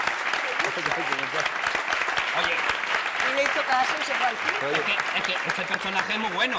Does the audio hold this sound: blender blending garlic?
no